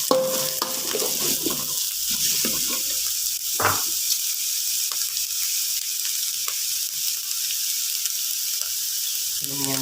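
Lemongrass fries in oil in a pan for a Minahasa-style rica-rica meat dish, giving a steady, bright sizzle throughout with a few scraping stirs near the start.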